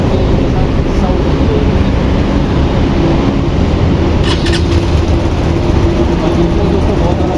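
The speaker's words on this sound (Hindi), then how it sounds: "और चलिए इसका एग्जॉस्ट नोट चेक करते हैं।" A 2023 Hero Xpulse 200 4V motorcycle, E20 variant, runs with a loud, steady low exhaust rumble that holds constant and close throughout, with no clear revs.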